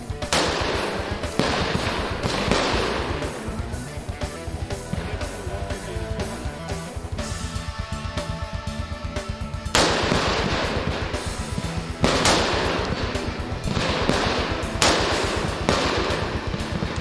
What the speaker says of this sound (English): Soldiers fire 40 rounds of ammunition when qualifying.